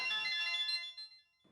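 A phone ringtone plays a bright electronic melody up close, then cuts off, leaving a brief quiet.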